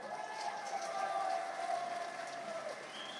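Audience applause welcomes senior poet Jawed Saba, visiting from Karachi, at a mushaira at the 2024 Quetta Literature Festival. The clapping is steady and moderately loud and continues for about three seconds.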